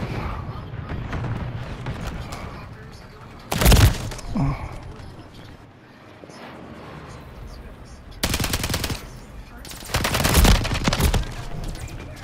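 Bursts of automatic gunfire from a Call of Duty match, two or three loud rapid volleys separated by quieter stretches with voice underneath.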